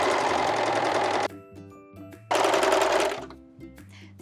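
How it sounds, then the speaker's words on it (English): A serger stitching a bikini seam, sewing fabric placed right sides together: two loud bursts of fast, steady motor whirring with a short quiet pause between them, followed by softer handling noises. "So let's place them right sides together, and we are just gonna serge that together."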